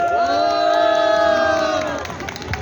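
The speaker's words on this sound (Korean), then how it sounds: "큰 박수 부탁합니다." A crowd at a street political rally in Seomyeon, Busan, lets out a loud, sustained unison shout of cheering lasting under two seconds, then fades into scattered claps and noise.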